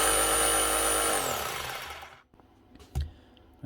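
Repaired Panasonic EY7880 28.8 volt cordless SDS drill running with a loud high motor whine, then spinning down to silence, followed by a couple of faint clunks and a thump.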